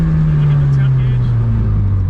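The SR20-swapped Datsun 240z engine settles from a rev down to a low, steady idle, its deep drone drifting slightly lower over two seconds with nearby cabin noise.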